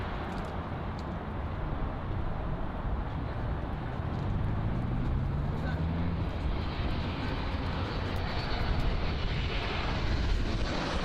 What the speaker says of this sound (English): we have quite a lot of American Airlines aircraft on approach now